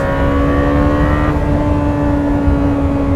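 A Lamborghini Temerario's twin-turbo-era 907 hp V8 revving hard toward 10,000 rpm, a loud sustained engine howl with a sharp pitch drop at a quick gear shift partway through, close and continuous with no voices.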